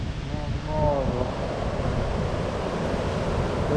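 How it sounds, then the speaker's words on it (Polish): Surf washing onto a neglected South China Sea beach in Vietnam with boats nearby, a steady broad roar of waves mixed with wind buffeting the microphone; a faint voice-like tone briefly rises early on. "I dotarliśmy nad morze."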